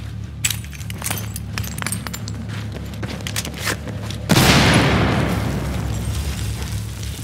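A big explosion in the Battlefield video game erupts suddenly midway as a loud, broad boom that rumbles and decays, preceded by scattered clicks and rattles.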